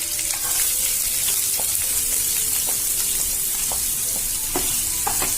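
Onions sizzle and fry with green chillies and curry leaves in a pan for a pumpkin sabzi, a constant loud hiss broken by regular clinks and scrapes of a spoon stirring.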